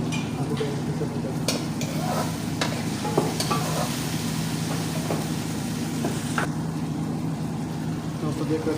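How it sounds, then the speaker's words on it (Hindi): Goat brain frying in a pan with onion, garlic and ginger, giving a continuous sizzle with occasional stirring clinks over a low engine-like hum, and a voice speaks throughout. "अभी ये धीरे धीरे इसको फ्राई करते हैं"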